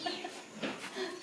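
A chicken clucks a few short times nearby, with soft rustling in the background.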